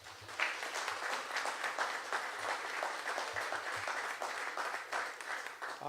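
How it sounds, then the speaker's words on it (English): Fairly quiet, steady applause from an audience at a Washington, DC mayoral press event on development legislation, with many hands clapping evenly for several seconds and no speech. "So let's give her a round of applause."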